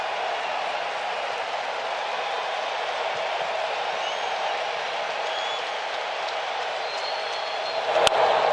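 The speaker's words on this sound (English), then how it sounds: "Now the crowd will come to life again." A steady, distant roar of a baseball stadium crowd at a Mets vs Braves game hums throughout, broad and sustained, swelling slightly near the end.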